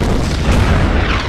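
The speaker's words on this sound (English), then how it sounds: "we can also fire the mortar on his tank" Mortar fire in the strategy video game Order of Battle: Winter War, a dense, rumbling boom that fills the whole moment with a steady low roar and no pause.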